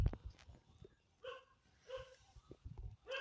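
A dog in the Granny 2 horror game barking in a few sharp, spaced yelps, thin and faint against low background noise.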